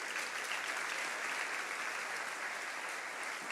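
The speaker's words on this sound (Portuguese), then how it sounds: "E se você crê, aplauda o Senhor." A church congregation applauds during a sermon, a continuous, even roar of many clapping hands, fairly faint and distant, with no speech over it.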